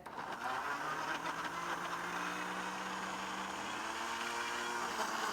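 An electric mixer whirs steadily, running continuously and loud at close range while gluten-free banana pancake batter is mixed, with no talking over it.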